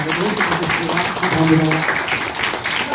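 An audience at a laughter-therapy camp applauds a lecturer, a continuous patter of clapping under a loud voice speaking over it.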